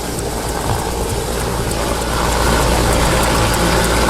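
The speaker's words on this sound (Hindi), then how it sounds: "भारी सामान को इंडियन एयरफोर्स के मी-17 हेलीकॉप्टर से लाया जाता है, जो रूस में बना है।" A Russian-made Mi-17 helicopter of the Indian Air Force produces a loud, steady engine and rotor roar that fills the scene without pause and swells slightly toward the end.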